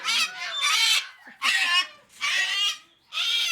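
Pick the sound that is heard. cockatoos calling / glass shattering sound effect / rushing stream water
cockatoos calling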